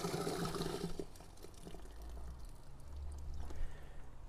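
A chemical toilet cassette is emptied into a pit with the vent button held, giving a close, steady splashing pour of liquid with a few gurgles and no glugging, loudest at the start and tapering off.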